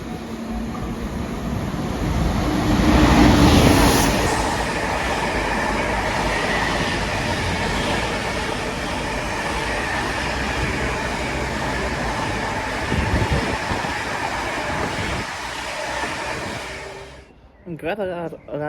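Steady rumble and rattle of a Pendolino electric train, unit 390 136, running on rails, heard from inside with a loud swell early on, fading out near the end.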